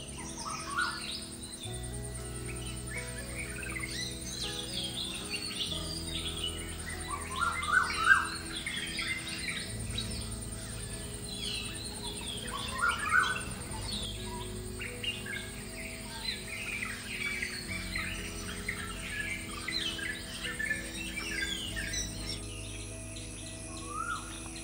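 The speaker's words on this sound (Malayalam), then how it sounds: "അതിൻ്റെ കൂടെ കിളികളുടെ സൗണ്ടും ഒക്കെ ആയിട്ട് ആ മോർണിംഗ് വൈബ്" Birds sing and chirp in a morning forest at the Periyar Tiger Reserve in Thekkadi, with scattered calls over a steady low hum and insect buzz, moderately distant and fairly quiet.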